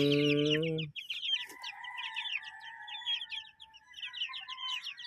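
Young chickens being settled onto the ground give rapid, high chirping peeps that run continuously and close by, after a brief loud harmonic call at the start.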